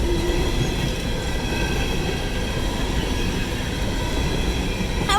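A four-engine coal train with a distributed power locomotive rolls past close by, a steady loud rumble of wagons and wheels lasting throughout, with a brief high wheel squeal near the end.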